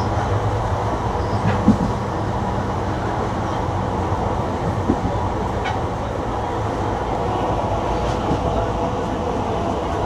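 The Haldibari-Kolkata Intercity Express pulls into a station with a continuous low rumble of wheels and carriages, faint clanks and a few sharper knocks over the steady roar.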